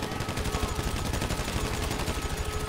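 Rapid, steady automatic AK-47 fire in the video game GTA V, a continuous close burst of evenly spaced shots across the whole stretch, loud and unbroken.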